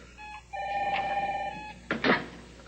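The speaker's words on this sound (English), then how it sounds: "Your phone rang." A telephone bell rings in a quiet room, a short, thin trill that cuts off once, then a louder second burst of ringing, heard at moderate distance with no voices over it.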